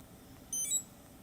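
A running watch beeps at the start of a snowy 5k run, a brief electronic double tone in the middle of a quiet moment.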